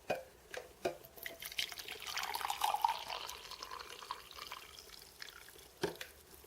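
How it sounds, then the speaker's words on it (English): Hot water pours steadily into a latte cup for a few seconds, with soft splashing and dripping and a few light taps, close and quiet. "I got the water in your favorite latte cup. Okay, let me just pour this."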